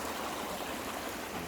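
A small woodland brook flows on a hillside walk, a steady soft rush of water continuing evenly with no voices.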